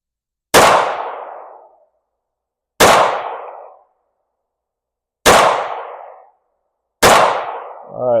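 Four sharp, loud pistol shots from an Alpha Foxtrot Romulus 4.25-inch Comp 1911 at a shooting range, evenly spaced about two and a half seconds apart, each one cracking and trailing off into a short echo, with no talking.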